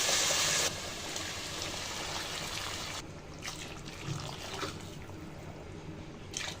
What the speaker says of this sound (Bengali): তো মেপে আমি এভাবে 4 মগ পানি দিয়ে দিয়েছি।